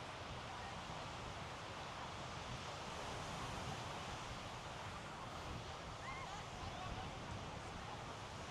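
Big ocean waves roll and break on Miami Beach under strong wind, a steady broadband wash of surf mixed with gusty wind noise on the microphone, continuous and fairly close throughout.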